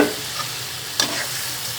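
Tengra fish dropped into spice paste frying in a pan, a steady soft sizzle with one sharp stir or scrape near the middle, close and alone.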